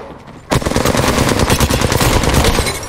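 Automatic gunfire in a video game bursts out after a short pause and then continues as rapid, loud, sustained shots in a fast, even stutter.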